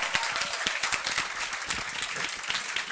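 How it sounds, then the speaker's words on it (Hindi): Audience clapping for a guest teacher at a coaching class event, a short burst of close, irregular claps with a lively, uneven texture throughout. "कमल सर को एक बार जोरदार तालियां हो जाए।"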